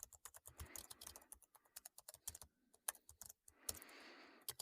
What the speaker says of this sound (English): you're going to be able to type longer and longer lines of code as you work